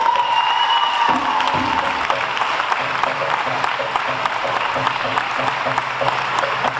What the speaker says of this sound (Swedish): Vi ger Benny en extra applåd